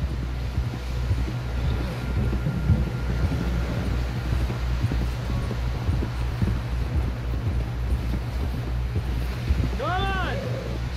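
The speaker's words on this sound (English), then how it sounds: "Someone help John down off this horse." Horse hooves clop along at a steady gait over wind and a low rumble in Red Dead Redemption 2, with a brief whistle-like tone near the end.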